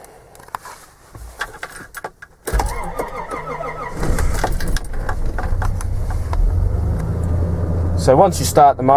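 Nissan GQ Patrol engine starting and then idling up close, a steady low rumble that follows a quieter stretch of handling, during a power steering box change.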